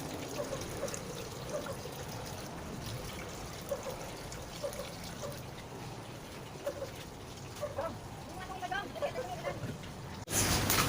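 Water pours steadily into a cooking pot to be boiled for coffee jelly, a continuous soft trickle running for about ten seconds with a brief louder splash near the end.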